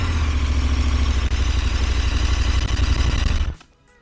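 Starter of a 2021 KTM 1290 Super Adventure S laboring as it cranks the engine, a continuous loud churning clatter with uneven pulses that stops abruptly near the end.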